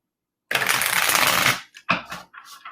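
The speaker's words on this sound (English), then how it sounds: "We're going to shuffle for you really quick, Bridget." Tarot cards shuffled close up in one sustained riffling burst, followed by a few shorter shuffling rustles, with no talk over it.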